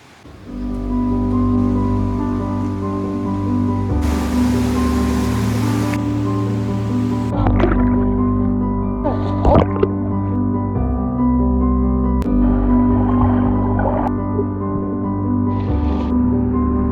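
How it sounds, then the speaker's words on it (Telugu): Steady broadband rush of a waterfall in the hills of Maredumilli, a continuous wash of falling water close by that fills the whole stretch, with brief hissing swells and a low hum underneath. "అక్కడ వాటర్ ఫాల్ కనిపిస్తుంది సార్"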